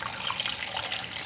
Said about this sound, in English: we're just gonna add into the broth. I just add plain water.